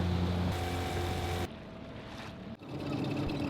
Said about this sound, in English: we're just approaching the harbour by dinghy